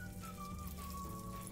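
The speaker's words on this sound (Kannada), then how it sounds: "ಇದಕ್ಕೆ ನೀರು ಹಾಕಿ ಮುಳುಗೋ ಅಷ್ಟು" Water is poured over puffed rice in a bowl to soak it. A steady, close rushing splash carries a faint tone that shifts in pitch as the bowl fills, with no talking.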